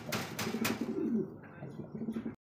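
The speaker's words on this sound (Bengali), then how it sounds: "এই জন্য কবুতরটা ভয় পাইতেছে দেখেন। মানে ডাকতাছে।" A pigeon coos in low, throaty repeated notes close by, with a few brief scuffling clicks early on before it fades out.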